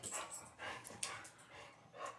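Dogs pant in a room in bursts of rough, breathy huffing, close and moderately loud, with a few brief whimpery breaths mixed in and no talking.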